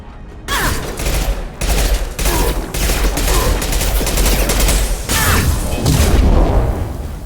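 Rapid gunfire in the video game Mass Effect 2 Legendary Edition: loud, close bursts of automatic shots and booms following one after another with short gaps, no talk.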